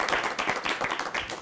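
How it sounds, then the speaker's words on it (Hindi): A studio audience on a cricket talk show claps for a good question, a brief burst of dense applause close and loud. "सवाल पे तालियां"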